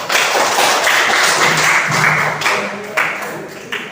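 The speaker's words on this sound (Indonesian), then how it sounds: "Sekali lagi kita tepuk tangan untuk kita semua." A room of people clapping close by, strong at first and tapering off with a few scattered claps at the end.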